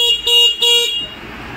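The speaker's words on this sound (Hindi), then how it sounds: "उसके बाद में हॉर्न देखा जाता है" An electric scooter's horn is tested with two short electronic beeps in quick succession, loud and close, followed by quiet.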